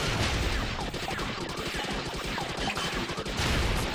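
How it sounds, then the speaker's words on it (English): An attack explosion in the shooter game Dariusburst: Chronicle Saviours rattles on as a dense, continuous barrage of rapid crackling blasts, loud and unbroken for several seconds. "the explosion lasts until the fire part of the attack is gone"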